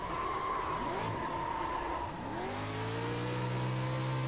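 A stadium truck drifts in the iRacing sim, its engine droning steadily while tires squeal and skid through a turn, with pitch rising and holding as it powers out, loud and close with no voices.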